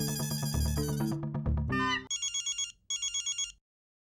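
A phone call rings through on the line: an electronic ringtone melody plays loudly, followed by two bursts of the repeating ringback tone, then silence.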